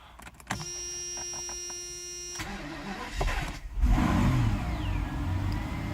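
A Mercedes SL600 with freshly repaired mass air flow wiring cranks with a steady starter whine and electrical hum for a couple of seconds, then catches and fires into a loud, low engine rumble that settles into a running idle.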